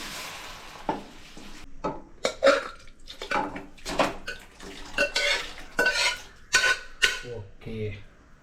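Water is poured into a cooking pan and stirred while a Kerala-style non-vegetarian dish is prepared, with clinks and scrapes of utensils against metal in uneven bursts, fairly close and moderately loud.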